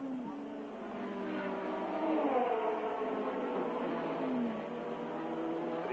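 A Formula 1 car passes on track at the Austrian Grand Prix, a steady engine whine with rising and falling pitch sweeps, moderately loud and continuous, with faint commentary blended beneath.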